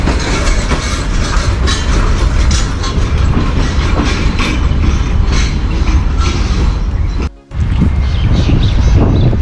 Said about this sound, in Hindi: 112 डाउन बदर एक्सप्रेस सिर्फ 20 मिनट लेट रनिंग के साथ पहुंच रही है फैसलाबाद।